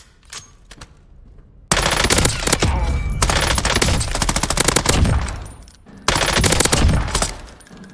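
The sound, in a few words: assault rifle gunfire in Warzone firing range, video game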